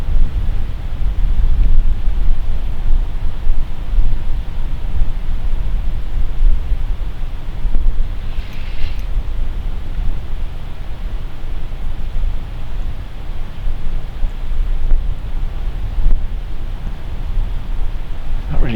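Wind blowing along the Warwickshire Avon riverbank on an evening of fishing, a steady, loud broadband rush buffeting the microphone for the whole stretch, with no voices.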